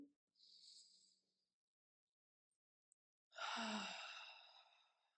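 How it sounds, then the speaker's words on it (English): Two slow, deep exhalations during a somatic breathing practice: a soft breathy release, a long silence, then a fuller, louder sighing breath out that fades gradually, close and intimate. "Breathing."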